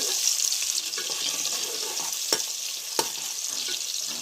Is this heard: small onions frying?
yes